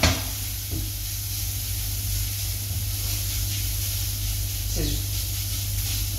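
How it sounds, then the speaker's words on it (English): Pancetta crisping in a hot pan gives a steady, even sizzle and hiss throughout, with a few faint clinks of utensils. "that pancetta is coming along nice and crispy"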